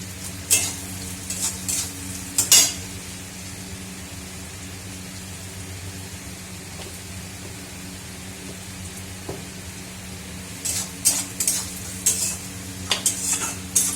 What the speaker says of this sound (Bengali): পেঁয়াজটা বেশ ভাজা হয়ে গেছে